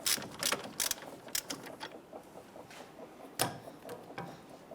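A ratchet clicks in short, uneven bursts while loosening the last hub bolt on a 1999–2004 Jeep Grand Cherokee, close and crisp with brief pauses between strokes.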